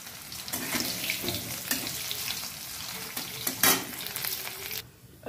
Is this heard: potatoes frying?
yes